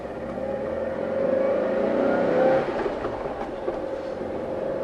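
Porsche 912 pulling away into traffic and accelerating, a moderate engine note that builds in pitch and loudness through the middle, then eases off, with road and traffic noise around it.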